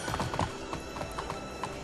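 Horse hooves clip-clop in a quick, uneven patter inside a video game, close and moderately loud for just under two seconds, with no clear neigh standing out.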